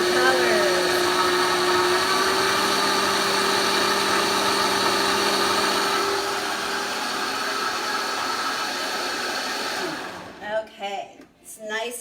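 A Vitamix blender whirs through vegan pumpkin pie filling as a loud, continuous motor roar for about ten seconds. The pitch settles slightly partway through, then the motor cuts off, leaving a few faint clunks.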